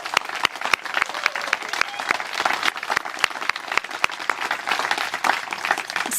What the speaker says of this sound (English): give them a round of applause behind you here to all of our staff